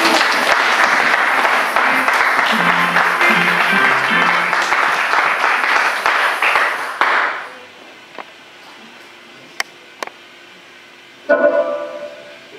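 A church congregation breaks into loud, sustained applause for about seven seconds, dense and close, then it stops abruptly, leaving near-quiet with a few isolated knocks and a brief burst of noise near the end.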